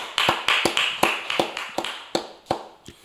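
A small church congregation clapping in an uneven rhythm during a late-night Friday worship service, a dozen or so distinct sharp claps spaced fairly evenly, with no voices.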